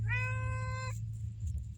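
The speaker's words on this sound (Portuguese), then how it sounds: "O gatinho da minha mãe tá aqui, ó." A house cat gives one clear, drawn-out meow close by, over a steady low hum, then quiet follows.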